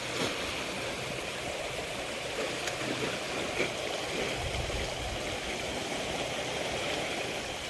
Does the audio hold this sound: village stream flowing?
yes